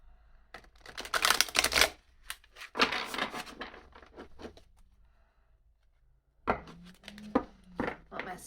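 Tarot cards are riffled and tapped in a few quick bursts of crisp, rapid flicking, separated by quiet pauses, close to the microphone.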